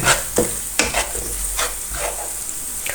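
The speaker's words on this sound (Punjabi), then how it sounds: "ਇਹਨੂੰ ਚੰਗੀ ਤਰ੍ਹਾਂ ਭੁੰਨਾਂਗੇ" Salt, turmeric and home-ground red chili stir-fry in a pan for a carrot bharta, with a soft sizzle under a series of sharp spatula scrapes and taps across three seconds.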